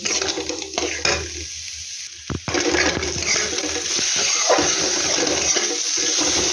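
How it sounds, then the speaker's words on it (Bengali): Egg curry with unboiled potatoes and spices stirred in a pan, a close, continuous scraping and sizzling with a few brief clinks of the utensil against the pan, no talking. "1 মিনিট আমি এটা এভাবে নাড়বো।"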